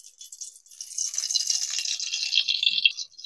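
Mustard oil poured into a cooking pan produces a soft, hissing, high-pitched trickle that builds after a brief pause and continues unevenly, close and moderately quiet, with no one talking.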